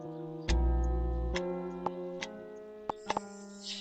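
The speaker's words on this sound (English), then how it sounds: "A clock with no hands, a ticking noise emitting from inside of it." A handless clock inside a video game gives off a steady, clear ticking, heard alone with regular clicks over a sustained musical tone.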